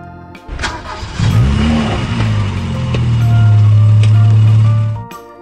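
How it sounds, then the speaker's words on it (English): A car engine cranks and catches, then revs up into a loud, sustained drone before cutting off, heard up close with no talking. "Car. Mobil."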